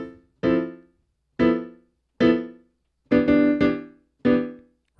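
Rootless drop 2 chord voicings on jazz piano are comped in a loose rhythm: six short, detached chord stabs, two of them close together, separated by clear gaps of silence.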